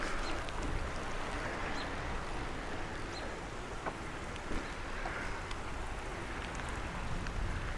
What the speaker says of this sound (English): Oh, it's raining hard now.